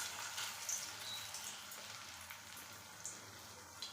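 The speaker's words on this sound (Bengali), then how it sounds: "তেলটা গরম হয়ে গেছে, ছোট ছোট করে বড়াগুলো ভেজে নিই।" Small drumstick flower fritters fry in a pan of hot oil, giving a steady, close crackling sizzle with scattered pops throughout and no talk over it.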